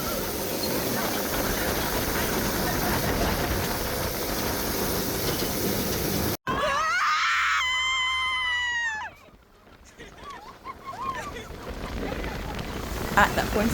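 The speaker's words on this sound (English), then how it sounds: "We are back on the buggies as we're about to head to stop number 2." Buggy ride in Peru: a loud, steady engine roar fills the first half, then passengers let out a burst of high-pitched screams for a few seconds before the engine noise returns, softer and uneven.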